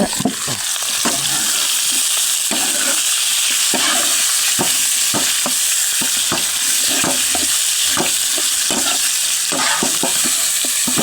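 Momos tossed with onion and tomato sizzle steadily in a hot pan as a spoon stirs and scrapes through them in frequent sharp clacks, close up and with no talking.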